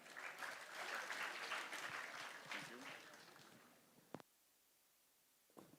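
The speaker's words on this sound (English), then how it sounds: "Can we welcome sir with a huge round of applause" An audience at a live Shubharambh 2024-2025 event applauds to welcome a speaker, a full round of clapping that swells, holds for a few seconds, then fades to near silence.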